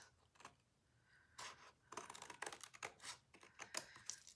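Scissors cutting through card stock while trimming overage from a handmade card, heard as a run of crisp snipping and crunching bursts, close and alone.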